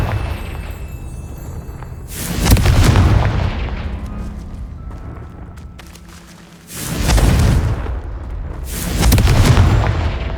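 Confringo explosive spell blasts in the Hogwarts Legacy video game, three loud booming bursts with rumbling tails spaced a few seconds apart, no talking.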